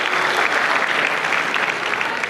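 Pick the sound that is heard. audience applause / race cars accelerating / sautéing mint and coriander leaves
audience applause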